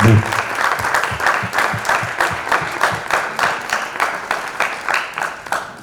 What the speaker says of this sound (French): on applaudisse tout à la fois les artistes burundais qui ont participé au FEF Création